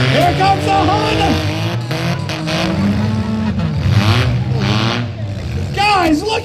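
Honda car driving in a demolition derby arena, its engine drone steady and fairly loud beneath crowd noise and continuous excited commentary.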